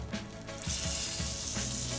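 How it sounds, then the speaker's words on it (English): Duck breast sizzles in a cast iron pan at a barbecue, a steady bright frying hiss with soft bubbling pops and a few stirring or shifting thumps, close and continuous with no talking. "Now let's get a sizzle on this one."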